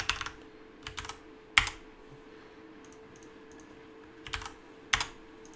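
Keystrokes on a computer keyboard while entering Rhino 7 commands come in short clustered bursts of sharp clicks separated by quiet pauses, close and crisp with no talking.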